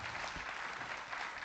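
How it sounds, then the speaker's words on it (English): An audience at a climate governance summit applauds a panel, a steady, dense clapping that fills the room evenly throughout without pauses. "A round of applause for the Rockstar panel this morning."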